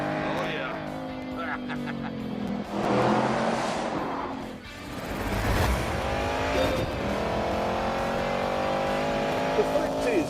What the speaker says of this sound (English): The fact is that the engine in Hammond's car is a push-rod, two-valve iron museum piece